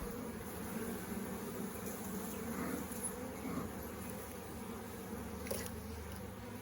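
Honey bees buzzing at a hive during a one-week inspection while being smoked, a dense continuous hum of many insects at close range, steady and alone with no voices.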